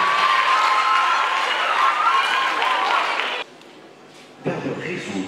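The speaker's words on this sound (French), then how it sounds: "on applaudit pour les deux joueurs" An audience at a debate final claps and cheers loudly for two competitors, broad crowd noise holding for about three seconds before cutting out abruptly, then a brief burst of room noise returns.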